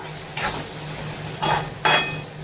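Turmeric, coriander powder and garam masala get stirred in a pan: three distinct scraping strokes of a spoon over a low, steady sizzle close by.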